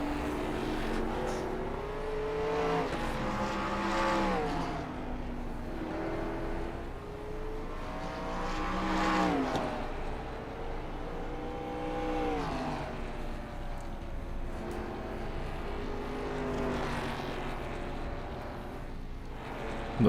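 Race cars at Lernerville Speedway roar around the track in a steady, distant engine drone that swells as cars pass and rev through the turns, with no talk over it.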